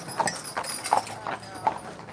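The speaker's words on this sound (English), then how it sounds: "Horse and carriage." Horse and carriage on a street on Mackinac Island: steady clip-clop of hooves passing nearby in an even rhythm, with background voices and street noise around it.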